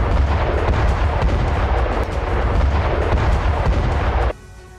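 Artillery barrage and airstrike explosions hitting Hezbollah positions in southern Lebanon: a dense, loud, continuous roar of blasts and rumbling booms that cuts off abruptly near the end, leaving a faint hum.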